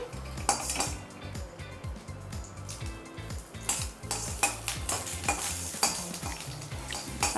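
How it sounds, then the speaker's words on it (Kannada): Green chillies fry in oil in a pan, a steady sizzle under rhythmic metallic scraping and clinking as a spoon stirs them close up, with no talking. "ಸ್ವಲ್ಪ ಮೆಣಸಿನ್ಕಾಯಿನ ಹುರ್ಕೊಳ್ತಾ ಇದ್ದೀನಿ"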